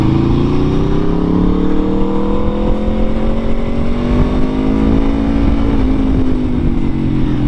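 A 2022 Aprilia RSV4 1100 Factory sport motorcycle engine, still being broken in, revs steadily nearby, its pitch rising gradually in a smooth, continuous drone with strong harmonics and no speech.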